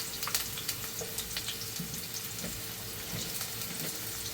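Sliced onion sizzles steadily in a hot frying pan, a continuous soft crackle at low volume with scattered small pops and ticks throughout, no voices present.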